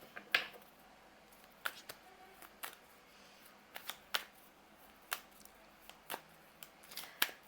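Tarot cards are shuffled and handled close up in a quiet room, giving a series of crisp, separate flicks and snaps at an uneven pace. No one speaks.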